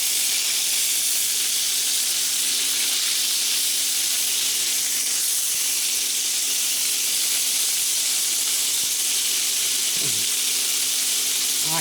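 Filet mignon steaks searing in a hot pan give off a loud, steady sizzle and hiss that runs unbroken throughout, with a brief faint clatter near the end.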